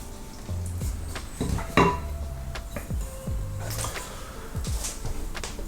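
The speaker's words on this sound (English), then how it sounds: "it just says simply wooden spoon, mix it all together" Wooden spoon stirring pizza dough ingredients in a bowl, heard as irregular scraping and knocking strokes against the bowl, close and moderately loud, with no talking.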